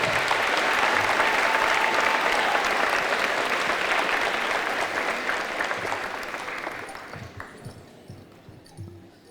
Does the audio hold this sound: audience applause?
yes